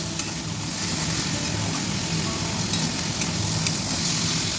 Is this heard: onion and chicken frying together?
yes